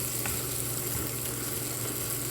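Eggs frying for shakshuka, an Arabic dish, in a pan, giving a steady, close sizzle that stays even and unbroken throughout with no voices.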